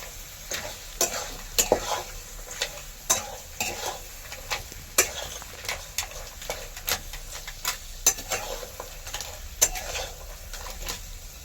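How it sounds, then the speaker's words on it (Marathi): Crabs and curry ingredients sauté in a pan over a village wood-fired stove, a continuous sizzle punctuated by sharp, regular clacks and scrapes of a spatula stirring close by, without talk. "हे सर्व साहित्य एकदा चांगलं परतून घेणार आहे"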